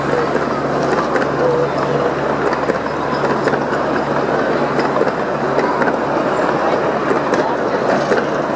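Train rolling past near a river walk and esplanade in Palmerston North, New Zealand, with a steady, continuous rumble and faint rhythmic clickety-clack of wheels on rails throughout, loud and close, no talk.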